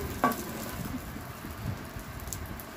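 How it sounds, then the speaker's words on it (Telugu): Raisins fry in ghee over a medium flame, giving a soft, steady sizzle with a brief clatter near the start. "ఇప్పుడు కిస్మిస్ కూడా యాడ్ చేసుకొని గోల్డెన్ బ్రౌన్ వచ్చేంత వరకు ఫ్రై చేసుకుందాం"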